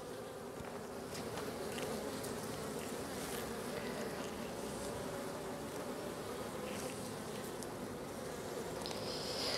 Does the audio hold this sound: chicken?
no